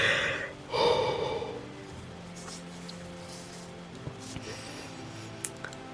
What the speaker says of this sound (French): Je vais bâiller à la place.